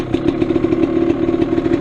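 A GasGas EC300 two-stroke dirt bike fitted with a Lectron carburetor runs nearby, a loud, steady idle with a rapid popping, clattering pulse throughout.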